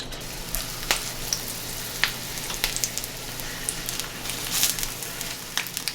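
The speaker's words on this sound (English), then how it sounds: "I'm going to cook it in the cast iron pan" Eggplant slices fry in oil in a cast iron pan, a steady close sizzle with scattered crackles and small pops.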